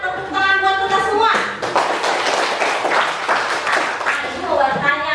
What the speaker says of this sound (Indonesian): kita berikan tepuk tangan buat kita semua